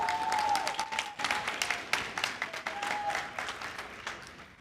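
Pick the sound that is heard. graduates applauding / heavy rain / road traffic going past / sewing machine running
graduates applauding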